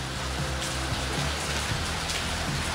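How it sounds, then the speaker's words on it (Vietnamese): Heavy rain pours steadily outside, a dense unbroken hiss that runs the whole time with a low hum beneath it and no voices. "Trời đang mưa to, ngoài kia đang mưa to lắm các bạn."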